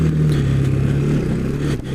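A Bajaj Pulsar 200 NS motorcycle engine drones and revs close up while riding off-road on a worn smooth tyre, loud and steady with no voices.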